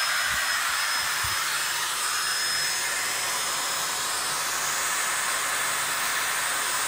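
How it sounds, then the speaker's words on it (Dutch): Vacuum cleaner running steadily to suck up spiders, a loud continuous airy roar with a hissing whine, heard close up and without talking except for a couple of faint low bumps at the start. "Nu de hele nacht de stofzuiger aan laten staan"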